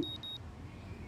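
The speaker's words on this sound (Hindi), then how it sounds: "अलार्म बज रहा शायद" An alarm clock in the video game Life Is Strange sounds three quick, high, thin beeps in a row, faint over a low background hum, then falls silent.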